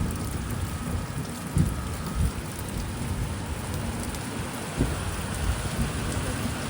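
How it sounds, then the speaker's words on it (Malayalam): Heavy rain pours steadily on hard surfaces at a mostly unroofed railway station entrance, with a few low rumbles underneath, no voices present. "ഖേദിലും ശക്തമായ മഴയാണ്"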